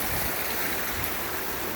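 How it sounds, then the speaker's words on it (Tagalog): A river on a farm runs strong and swollen after days of rain, giving a steady, dense rushing of water that stays close and loud throughout, with no voices. "Medyo malakas yung agos kasi maulan kasi nitong mga nakaraang araw."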